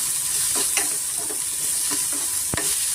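Sliced onions frying on medium flame for bitter gourd gojju, a constant hiss broken by a few stirring scrapes and one sharp knock near the end.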